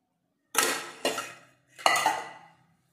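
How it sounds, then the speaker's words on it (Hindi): Soaked fenugreek strained through a metal sieve into a bowl: three distinct clanking knocks of utensil against sieve and bowl, each ringing briefly and fading, close and clear with no talking. "बाउल में छन्नी से छान लेते हैं।"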